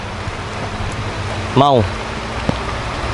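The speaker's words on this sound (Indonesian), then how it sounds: "Ya hari ini dan ini hujan." Steady rain hisses across the whole scene in an outdoor setting, while someone briefly speaks over it with a single short word.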